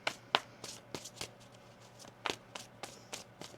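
Tarot cards being shuffled by hand, a series of quick crisp riffles and soft slaps spaced irregularly, close and fairly quiet with no voices.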